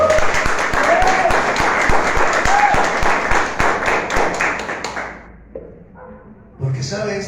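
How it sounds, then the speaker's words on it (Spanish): A church congregation claps together during a service: dense, steady rhythmic applause fills the first five seconds, then thins and fades, with a few voices and stray sounds afterward. "Denle un aplauso al Señor."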